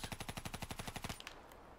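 Rapid automatic gunfire from the video game Call of Duty rattles off in a fast, evenly spaced burst of about a dozen shots, then stops abruptly, heard alone and fairly quiet.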